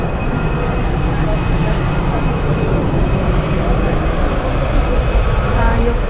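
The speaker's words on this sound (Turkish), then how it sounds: "uçak indi" An airplane roars steadily overhead as it comes in to land near a pumpkin festival in Switzerland, a loud, dense engine rumble with no break, and people talk under it.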